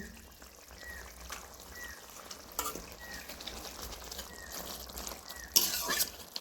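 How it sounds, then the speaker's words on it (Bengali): Fried small fish go into a simmering radish curry in a pan, giving a faint, quiet bubbling and sizzle with a few soft stirring scrapes and a louder clatter near the end. "এবারে আমি ভেজে রাখা মাছগুলো দিয়ে দিচ্ছি"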